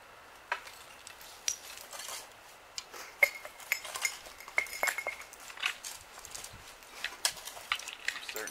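Old marbles dug out of a woodland dump clink and knock against one another in sharp, irregular little taps, fairly quiet and close, with no talking.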